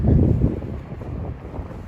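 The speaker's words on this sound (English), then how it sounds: "things are gonna get a little bit less windy" Gusty wind on a New York City street buffets the microphone in low rumbling bursts, strongest at the start and then easing to a steadier rush.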